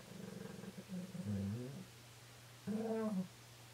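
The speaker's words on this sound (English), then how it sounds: "Got talkative Shih Tzus this morning." Shih Tzu dogs vocalizing in two short bursts, a drawn-out whiny sound followed by a pause and a briefer second whine, fairly close and moderately quiet with no talk over them.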